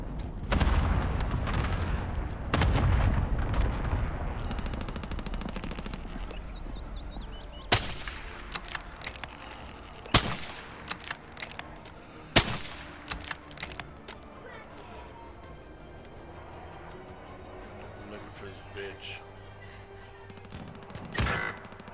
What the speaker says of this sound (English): I got a precision airstrike.